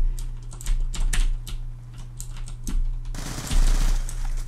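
An MSMC submachine gun in Call of Duty Black Ops 2 fires in rapid, loud bursts of clattering shots, then a harsher wash of noise closes the sequence.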